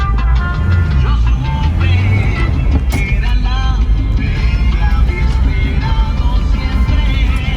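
Music plays steadily from the radio of a 1991 Toyota Hilux 1-ton pickup with a 1.8L 2Y engine, mixed with continuous engine and road rumble throughout, with no talk over it.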